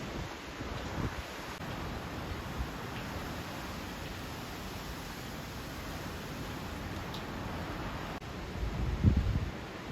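Strong storm wind in Sochi, a steady broadband roar buffeting the microphone throughout, with a louder gust near the end and no talk.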